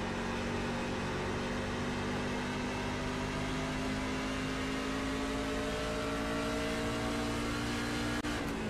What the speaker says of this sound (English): Hear the engine. You hear the engine, Sean Breitzman there.